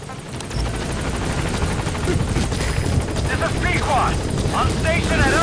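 The Pequod helicopter arriving at a landing zone in Metal Gear Solid 5: rotor chop growing louder and nearer, with radio voices talking over the approach.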